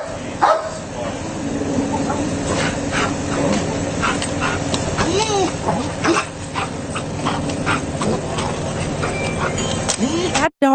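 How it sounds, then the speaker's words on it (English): An excited police dog whimpers and yips repeatedly, high thin whines rising and falling throughout, heard over steady background noise and radio-like chatter with voices in the mix. "That dog is so happy right now."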